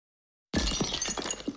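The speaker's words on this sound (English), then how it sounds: "Vana, ever the quickest on her feet, smashed the vase over its head" A vase smashes over an undead creature's head with a sudden loud crash after a moment of silence, a dense burst of shattering followed by scattered tinkling fragments as the breakage trails off.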